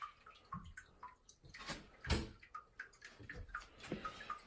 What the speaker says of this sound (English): I can hear water running too.